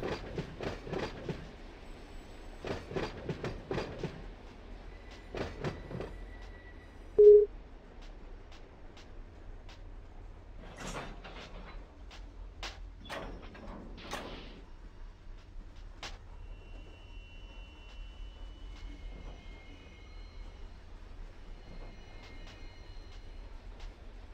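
Freight trains with empty auto racks moving through a town yard in the Run8 V2 train simulator: a low continuous rumble under bursts of clanking couplers, a brief squeal and scattered metallic knocks, some close and others distant.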